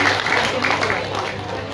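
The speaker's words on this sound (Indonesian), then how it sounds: "Sekali lagi tepuk tangan yang meriah untuk Bapak Forkopimda kita yang luar biasa ini." Applause from an audience at a ceremony for local officials, a dense wash of clapping that holds steadily and tapers slightly toward the end.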